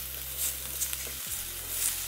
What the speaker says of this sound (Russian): На сковородке обжариваем чеснок где-то 1 минуту.